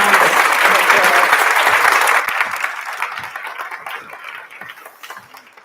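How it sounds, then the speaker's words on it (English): A conference crowd at a media and tech women's event gives loud, close applause that rolls on strongly for about two seconds, then thins into scattered fading claps. "please give them a round of applause"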